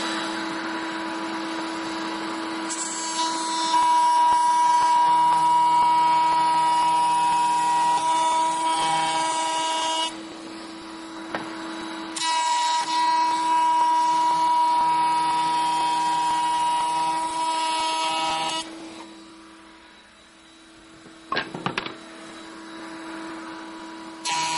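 A handheld electric router cutting wood gives a steady, high whining motor drone in long passes of several seconds, with brief dips and pauses between cuts and a short clatter near the end.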